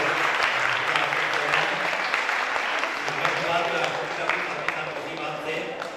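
Sustained applause from an audience at an Urdu festival in Mumbai, dense steady clapping that fills the whole stretch and fades slightly toward the end.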